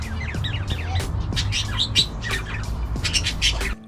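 Birds in the War Memorial Park aviary in Basingstoke, several chirping, tweeting and squawking together at close range over a low rumble, with busy overlapping calls that stop suddenly.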